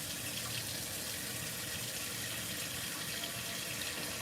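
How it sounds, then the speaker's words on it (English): Tap water runs steadily into a pot in a kitchen sink, a continuous broad splashing hiss at moderate, even level throughout, close by and without talking. "I'm gonna get a pot of water going while I'm washing the dishes."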